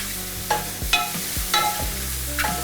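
Porcini mushrooms frying golden in a pan give a steady sizzle, broken every half second or so by the soft knock and scrape of stirring.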